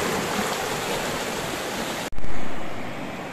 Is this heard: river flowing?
yes